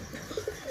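Pigeons give a few soft, short coos close by, faint against a low background hum, in a brief snippet with no talking.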